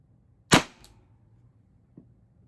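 A Pepperball TCP launcher with a 6-inch Lapco barrel fires a single round, a sharp, loud crack up close followed by a brief tail, then a faint distant tap a moment later.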